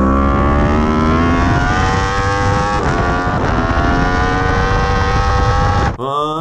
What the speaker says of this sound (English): And then as soon as I lean left, the RPMs go up